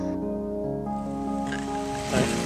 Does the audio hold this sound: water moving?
yes